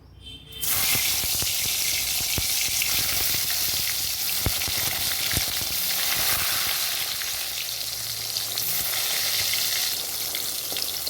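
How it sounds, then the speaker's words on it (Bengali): Eggplant slices sizzle steadily in hot mustard oil in a pan, a loud continuous frying hiss that starts suddenly and runs throughout, with no voices. "পরিমাণ মতো বেগুনগুলো ভেজে নেবো"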